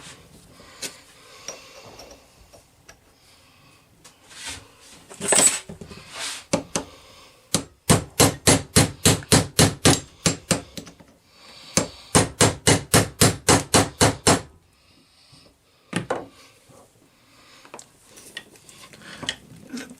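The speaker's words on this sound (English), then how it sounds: "we're going to have to tap that on with the hammer" A hammer taps a metal part onto a Luke Skywalker Return of the Jedi lightsaber hilt, with a few scattered knocks followed by two long runs of rapid, evenly spaced sharp metallic strikes, close and loud, then quieter handling.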